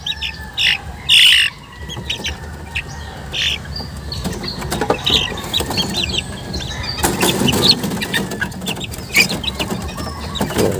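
Chicks feeding in a yard, with scattered squawks, clucks and chirps, brief wing flaps and pecking scuffles close by, busy and irregular with no talk.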